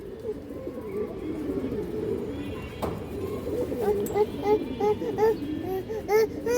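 An old-breed Palla-line pigeon coos in short, rising calls that grow more frequent toward the end, heard under someone talking nearby.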